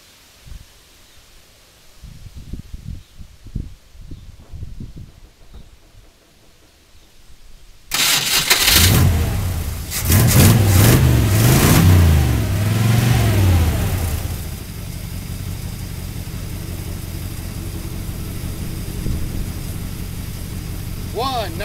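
A 1969 Lincoln 460 V8 cranks and catches after a few quiet clicks, then roars loudly through several throttle revs before settling into a steady, rumbling idle.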